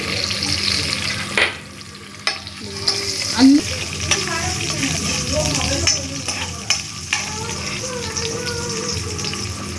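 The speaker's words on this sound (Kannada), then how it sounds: "ಈ ಕಾದಿರೋ ಎಣ್ಣೆಗೆ ಬೆಳ್ಳುಳ್ಳಿ, ಜೊತೆಗೆ ಶುಂಠಿ ಹಾಕೋಣ" Garlic and ginger sizzle in hot oil with a steady, close crackling hiss, interrupted by a few stirring knocks and scrapes.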